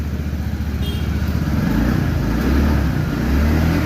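A TVS Ntorq BS6 scooter engine starts and idles with a steady low mechanical hum, rising slightly as it revs a little, close and continuous with no talk.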